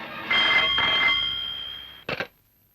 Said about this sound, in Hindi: विजय, पुलिस को फोन करो।